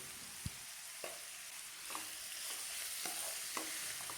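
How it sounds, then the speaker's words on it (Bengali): Snake gourd stirred with turmeric in a hot pan over high heat, a steady close sizzle broken by several sharp spatula scrapes and knocks spaced about half a second to a second apart, with no talking. "দু মিনিট পর হলুদ গুঁড়ো দিয়ে আবার কিছুক্ষণ নেড়ে নিতে হবে।"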